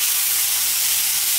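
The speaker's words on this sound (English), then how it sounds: "And now it's time to add our rice." Cold basmati rice hits a hot pan for mushroom fried rice, setting off a loud, steady hiss of sizzling that fills the moment without a break.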